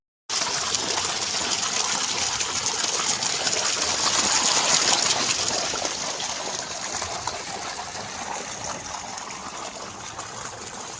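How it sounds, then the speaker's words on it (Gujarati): Loose irrigation water gushing freely through a field channel at night, a continuous broadband rush that holds steady and slowly eases toward the end, fairly loud and close with no speech. "છૂટું પાણી હાલી રહ્યું છે"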